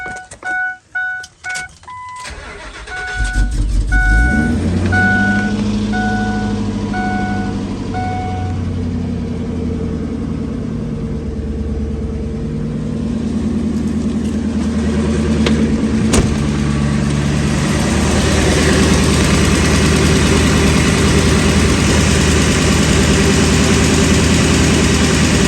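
Ford Super Duty F350 pickup with a leaking oil cooler cranking over in a cold start, a few beeps and starter churns giving way to a loud, steady low idle that rises slightly and holds, close by.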